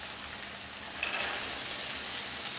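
Whole green chickpeas stirred into masala frying in a pan, a short, even, close sizzle with faint stirring.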